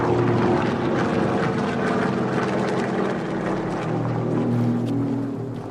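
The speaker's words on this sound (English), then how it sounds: "It was coming from the enemy planes of the Japanese." A deep, continuous propeller drone of Japanese aircraft overhead, loud and steady throughout, with a broad rumbling roar that thins slightly toward the end.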